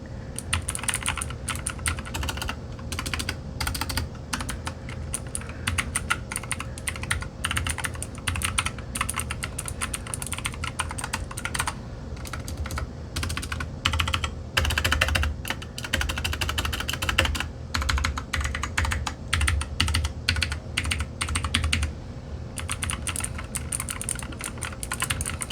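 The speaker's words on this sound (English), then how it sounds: "I'm going to do a quick typing on this so you guys can have kind of an idea of what this sounds like" Fast, continuous typing on a Dierya DK63 mechanical keyboard clatters close by, with rapid crisp keystrokes and brief pauses over about twenty-five seconds.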